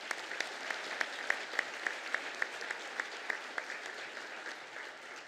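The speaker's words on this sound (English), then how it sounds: "We might offer them a round of applause." An audience applauding musicians at a graduation ceremony, a fairly quiet, steady patter of clapping with a few sharper individual claps standing out, gradually thinning toward the end.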